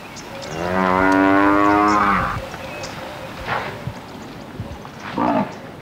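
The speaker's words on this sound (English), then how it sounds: "One of Africa's most successful herbivores is a bovine, the Cape or African buffalo." A Cape buffalo from an African herd gives a long, loud, drawn-out low close by, followed by a few fainter grunts and calls in the distance.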